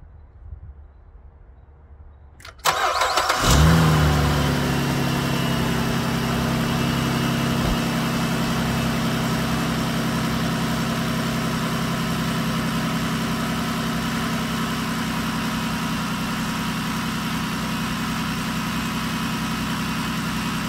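A 2009 Saturn Aura engine cranks briefly and catches, then settles into a steady, even idle that hums on without a break, close up and with no one talking.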